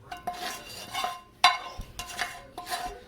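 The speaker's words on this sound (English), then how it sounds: "Just go ahead and scrape that pan" Metal utensil scraping and clinking against a pan while spreading cooked meat for a lasagna, a series of sharp, close scrapes and clanks in an irregular rhythm.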